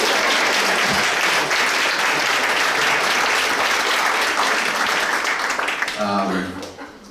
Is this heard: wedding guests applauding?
yes